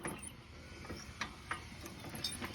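The loose torque converter on a Pacesetter Trailbuck mini bike shifts as the bike is rolled, making faint, scattered mechanical clicks and rattles over a quiet background, with no talking.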